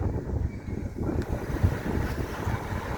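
Steady wind buffeting a microphone at a beach on a sunny day, a dense low rumble filling the whole clip with no pauses and no voices.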